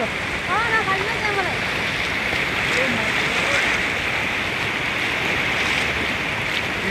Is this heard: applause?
no